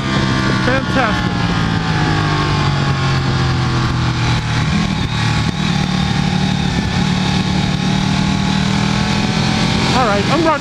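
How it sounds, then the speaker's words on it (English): Ducati Panigale sportbike engine on a race track, a loud steady roar with pitch shifts from downshifts and gear changes, close and continuous with wind noise throughout. "I'm riding my Panigale on the track"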